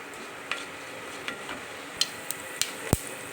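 Mustard seeds, fenugreek, cumin, shallots and curry leaves sizzle in hot oil as a sambar tempering, a steady frying hiss broken by sharp pops and crackles.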